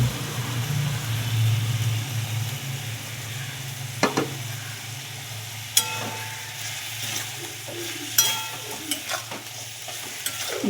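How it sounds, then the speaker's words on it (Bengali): Meat fries with tomato and spices in a pan under a continuous low sizzle, while occasional sharp scrapes and clinks of a spoon stirring the mixture become more frequent later on. No one speaks. "ভালো করে কষিয়ে নেব মাংস টমেটো মশলা সব কিছু ভালো করে কিছুক্ষণ কষাবো"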